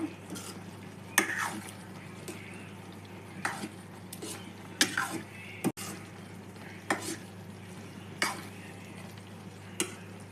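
Carrot halwa with melted sugar syrup is stirred in a pan, a spoon scraping and tapping the metal in irregular knocks every second or two over a low background.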